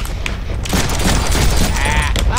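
Dense gunfire from the Deadpool video game: rapid overlapping shots and bursts forming a continuous loud barrage, with a brief spoken exclamation mixed in.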